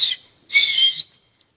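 A person whistles loudly at an awards dinner, giving two shrill high-pitched blasts, a short one and then a longer sustained one, alone in a quiet room.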